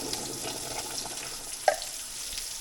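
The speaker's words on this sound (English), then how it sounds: "I'm going to pour in my can of chicken broth." Chicken broth from a can pours into a pot of browned noodles on the stove, a steady close liquid splash and gurgle with one brief clink partway through.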